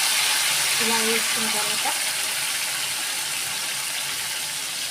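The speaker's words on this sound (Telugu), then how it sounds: "ఆయిల్ మరిగాక ఈ కూర ఇందులో వేసుకోవాలి." Chicken curry pieces drop into hot oil and fry with a loud, steady broadband sizzle, close up, while someone speaks briefly over it.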